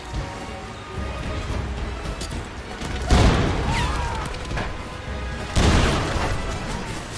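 A frag grenade goes off in a PC shooter, two heavy booms a couple of seconds apart, each a loud broadband blast that decays slowly into a steady wash of game ambience and noise.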